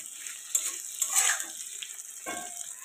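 Pieces of fried taro stirred in a hot pan for a Bengali taro and spinach ghonto, making a soft, close sizzle with a few louder scraping bursts of the spatula.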